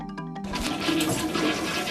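A low-flow toilet using only 0.2 gallon of water per flush, in a house designed around water recycling, flushes with a loud rushing surge that starts after a brief knock and continues steadily, close by.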